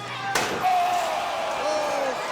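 A steel chair slammed during a dog collar wrestling match, one sharp loud crack followed by crowd noise and commentary, with a ringing tone trailing away afterward.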